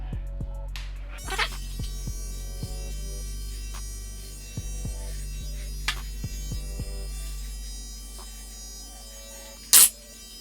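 Electric hair clippers with a number 2 guard, closed, buzz steadily through a self-cut taper haircut, a low constant hum with small clicks and bumps as they move, no talk.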